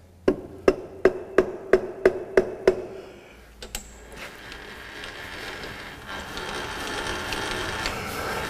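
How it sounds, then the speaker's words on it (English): Eight sharp, evenly spaced hammer blows ring out on the fixed part of a steel bench vise in a fitting and turning workshop, followed by softer scraping and shuffling metalwork noise that continues steadily. "Hit it on the fixed part of the vise."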